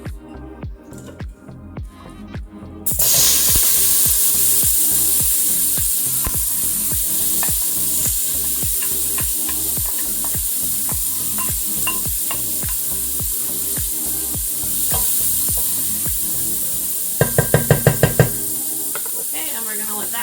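Chopped onion frying in bacon grease, a loud continuous sizzle and crackle with rhythmic scraping and stirring knocks throughout, ending in a brief burst of rapid taps.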